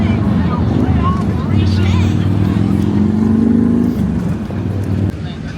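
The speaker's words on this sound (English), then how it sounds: "Oh man, you can hear the cars." Race cars at Daytona International Speedway during the Coke Zero Sugar 400 drone from a distance outside the stadium, their rising engine whine carried under a loud crowd babble and a nearby voice.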